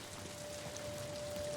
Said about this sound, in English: the rain effects in this is awesome